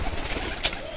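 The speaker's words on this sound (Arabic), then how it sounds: "الحمام كله طالع" A flock of domestic pigeons bursts out of a loft in a brief, dense flurry of wing flapping mixed with soft cooing, close and busy throughout.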